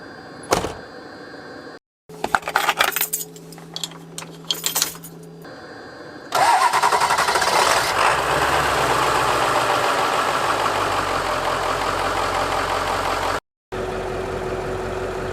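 A diesel hydronic heater mounted behind the driver's area of a van clicks and ticks as it starts, then settles into a steady, close whooshing roar that runs continuously with a brief dropout near the end.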